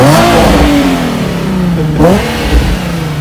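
Loud car exhaust revving up and down close by, the engine note climbing and falling twice with a throaty rumble underneath.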